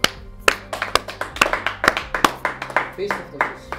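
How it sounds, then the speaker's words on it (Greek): A few people clap by hand in a small studio, sharp claps in an uneven steady rhythm of about two per second, close and clear, with voices talking underneath. "Χειροκρότημα."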